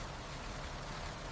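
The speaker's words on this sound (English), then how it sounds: "Yes, it is raining now." Steady rainfall, a dense even hiss of drops on surfaces with no pauses, continuous and moderately loud throughout the short stretch.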